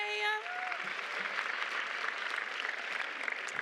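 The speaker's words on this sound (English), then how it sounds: "Another round of applause for Miss Aubrey" At a Girls Inc. national luncheon, a large audience gives a sustained round of applause. The clapping fills the room evenly after a brief voice at the start.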